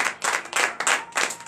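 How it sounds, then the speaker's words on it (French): A church congregation at a morning prayer service in Benin claps together in quick rhythmic bursts, roughly four pulses in a row, loud and close. "Donnez l'acclamation à Jésus."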